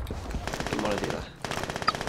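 A mounted turret machine gun in the Brink video game fires rapid, continuous bursts, loud and close, with a brief lull before the firing resumes.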